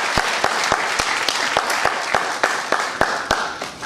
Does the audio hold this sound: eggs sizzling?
no